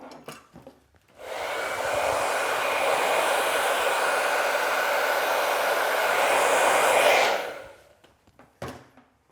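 Hair dryer blowing loose cut hair off a client after a scissor haircut, a loud, steady close-up roar lasting about six seconds before switching off, with quiet handling sounds around it.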